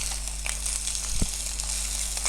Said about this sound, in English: Make sure that you do not burn your bacon while trying to make it crispy.